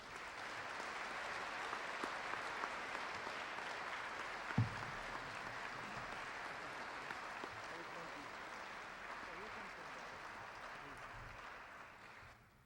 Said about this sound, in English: We applaud the athletic talents of Robert J. Grantham